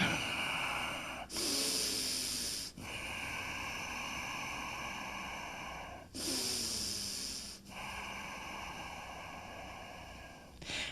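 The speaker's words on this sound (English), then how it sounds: "Ujjayi breath here." Slow, audible Ujjayi breaths in a yoga class, each long ocean-like hiss drawn through a constricted throat, two full inhale-exhale cycles heard close and alone with brief pauses between them.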